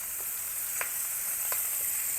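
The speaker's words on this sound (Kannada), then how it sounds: "ಒಳ್ಳೆ ಫ್ರೈ ಆಗ್ತಾ ಉಂಟು." Kingfish (anjal) frying on a tawa gives off a steady bright sizzle, close and continuous, with a few faint clinks on top.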